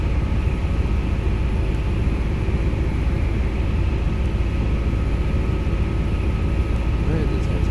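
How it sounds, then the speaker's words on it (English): Cockpit engine drone of a helicopter flown in Microsoft Flight Simulator X: a steady, even low rumble with broadband hiss, unchanging throughout, no other sounds. "Really quiet helicopter inside."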